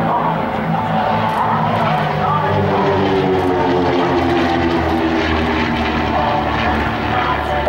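Propeller aerobatic aircraft fly in formation at a military air show, their engines a loud, steady droning roar that holds throughout with a slowly shifting pitch.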